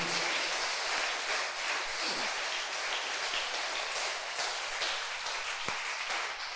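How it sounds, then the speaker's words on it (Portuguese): A church congregation applauds during a sermon, a sustained, dense wash of clapping that stays fairly even for several seconds. "aplauda o Senhor Jesus por isso."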